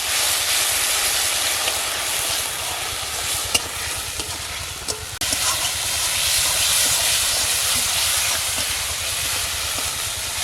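Paste of ginger, garlic and onion sizzling in a pan of oil with browned onions, a steady loud hiss filling the whole stretch, with faint stirring clicks and a brief dip midway.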